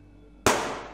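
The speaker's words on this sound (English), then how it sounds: "Was that a gunshot?" A single sharp gunshot rings out in the video game We Are Chicago, a sudden loud crack that decays into a lingering echo after a quiet moment.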